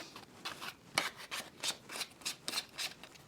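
Sandpaper of 220 grit rubs back and forth over a small epoxy clay sculpture, giving quiet, close, rhythmic scratchy strokes at about three per second, with no talking.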